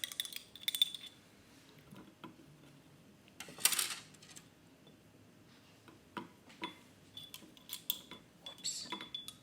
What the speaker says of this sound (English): I'm gonna give them a little stir